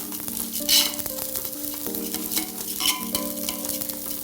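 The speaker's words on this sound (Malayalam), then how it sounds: "നമ്മളിങ്ങനെ ഇളക്കും തോറും വെള്ളം വറ്റിക്കൊണ്ടിരിക്കും" Rice cooks in boiling water in a pot over a low flame while a spoon stirs it, giving a steady bubbling hiss with light scraping and clinking throughout.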